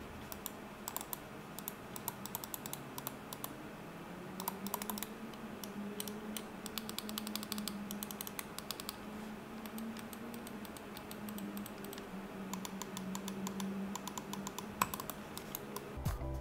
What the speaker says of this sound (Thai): เดี๋ยวไปฟังเสียงในการกดกันบ้างนะผมว่าการกดเนี่ยเสียงเป็นยังไงนะครับ